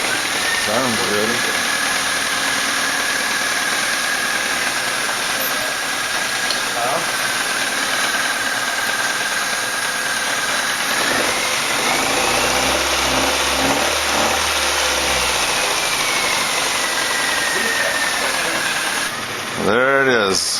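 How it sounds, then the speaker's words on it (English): A newly installed replacement engine in a 2001 Mazda 626 idles steadily with an even mechanical hum, close and continuous for about twenty seconds, briefly shifting in pitch partway through, while a person talks over it. "There it is, the new motor in, running, humming, no problems."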